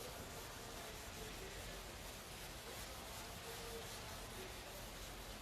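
A car headlight lens is wet- or hand-sanded with 1,000-grit paper, giving a steady, faint, continuous rubbing hiss with no pauses and no voices.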